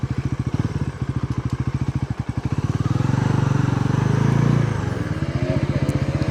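A KTM/Bajaj NS 400 motorcycle engine revs up nearby, its throbbing pulses swelling into a sustained roar midway and then easing back to a steady rhythmic burble.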